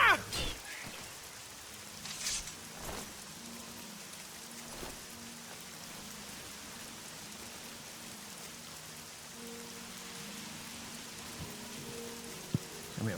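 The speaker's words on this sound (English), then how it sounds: "That's the most annoying thing about it raining in this game usually." Rainfall in the game Oblivion keeps up a soft, steady hiss throughout, with a few louder thumps and a quiet low tone beneath it and no speech.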